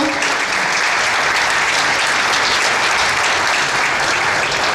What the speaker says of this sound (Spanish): Le damos la bienvenida al ministro, un fuerte aplauso